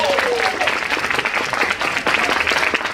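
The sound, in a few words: audience applause at a poetry slam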